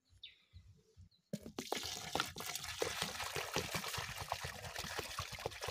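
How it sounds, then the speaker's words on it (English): Water is poured into a container while making local home-use soap, about ten liters in all: a short quiet trickle, then a loud continuous splashing pour close by, with no talk. "So guys, I have to pour water here."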